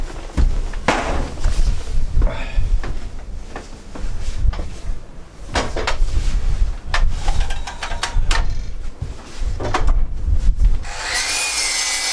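A hand saw cutting scrap lumber for a deck build, with uneven back-and-forth rasping strokes, some louder than others, close up and broken by short pauses, then a brighter scraping sound at the end.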